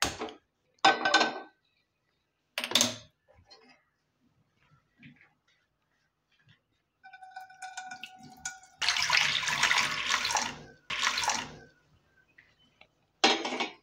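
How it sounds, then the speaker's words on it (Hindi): Water poured into a heated pan on the stove while cooking, a loud broad splashing rush lasting a few seconds, preceded by short clanks and rattles of cookware. "एबे पैन को गरम करिकरी ता दे टिके पानी पकेवा"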